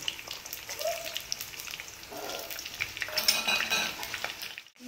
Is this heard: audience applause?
no